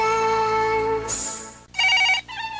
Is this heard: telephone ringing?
yes